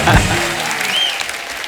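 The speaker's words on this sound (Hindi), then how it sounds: "जोरदार तालियां" A short burst of loud applause from a TV comedy show studio audience, fading quickly as the clapping dies down.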